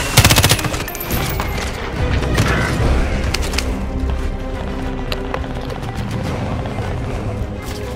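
Gunfire in the video game Call of Duty: Warzone on Rebirth Island, a loud opening burst of rapid shots followed by a sustained clattering barrage with scattered bangs, mixed with other game noise.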